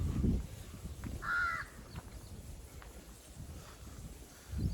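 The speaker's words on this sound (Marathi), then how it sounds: "कावळा कुठं कॉव करतोय तो का त्या मागच्या लिंबावा बसलाय." A crow caws from a lemon tree on a farm in the morning, a short harsh call standing out over low wind and faint background noise, with no talk during the call.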